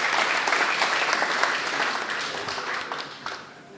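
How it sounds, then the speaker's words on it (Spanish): Audience applause at a history lecture series at the Club del Progreso, a dense, steady wash of many hands clapping that fades slightly toward the end, with no voices over it. "un aplauso sin duda"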